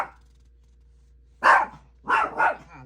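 A dog barks three times up close and loud, one sharp bark followed by a quick double bark after a short pause, in an otherwise quiet room.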